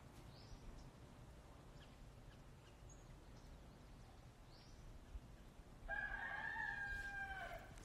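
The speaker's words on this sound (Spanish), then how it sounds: "¿Escuchan los gallos y los pajaritos?" A rooster crows once from some distance near the end, after quiet outdoor ambience with faint, scattered bird chirps.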